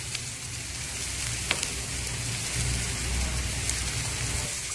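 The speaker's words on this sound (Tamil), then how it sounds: "ஒரு பேன்ல எண்ணெய் சூடானதுக்கு அப்புறம் வெங்காயம், வெங்காயம் 2 நிமிஷம் வதங்கட்டும்" Continuous sizzling and crackling of onions, carrot and cabbage frying in hot oil in a pan, a steady close hiss with small pops scattered throughout.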